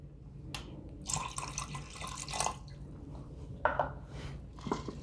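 Half a cup of water poured into an Instant Pot with milk and sabudana, heard as short splashy bursts and drips, close and fairly quiet, with gaps between pours and no talk.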